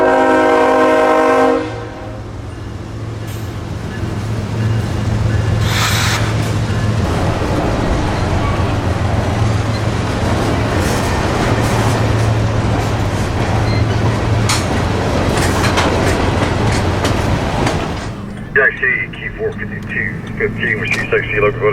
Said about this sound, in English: K815 is empty phosphate hoppers returning to the Bone Valley from Illinois